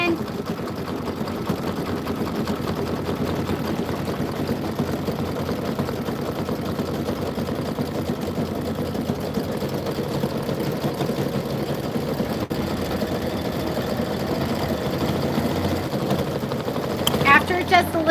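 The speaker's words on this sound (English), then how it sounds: "So we're stitching the swirls right now." An embroidery sewing machine stitches a swirl pattern, giving a steady, loud mechanical whir with fast stitching pulses that run unbroken through the whole stretch.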